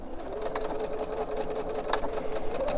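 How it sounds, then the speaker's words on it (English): A sewing machine runs steadily, top stitching across a pillow slipcover near its edge, with a continuous close whirring hum and no talk. "I'm just going to do a top stitch here going across"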